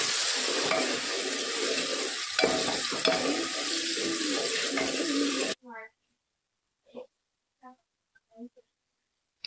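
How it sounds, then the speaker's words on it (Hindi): Tomatoes and salt are stirred in a cooking pan for chole, a dense close sizzle and scraping for several seconds that stops abruptly, followed by a few short spoken bursts in near silence. "इसमें थोड़ा सा नमक डालेंगे और इसको अच्छे से चलाएंगे ताकि सब चीज़ टमाटर सॉफ्ट हो जाए।"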